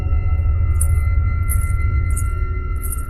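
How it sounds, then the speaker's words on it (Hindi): Anklet bells on someone walking inside an old house in a haunted-house cartoon jingle in four bright, evenly spaced bursts over a steady low rumble and hum, faint and distant. "ये तो पायल की आवाज है, जैसे लग रहा है कि कोई औरत पायल पहनकर अंदर घूम रही है।"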